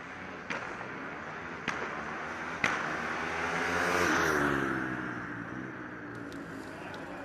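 A Formula Student race car accelerates hard down a straight during an acceleration event, its engine note climbing through the gears. Sharp backfire cracks sound at each gear shift before the car roars past and fades into the distance.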